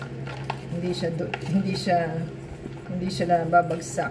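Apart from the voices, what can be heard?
stirring chocolate chips and walnuts into banana bread batter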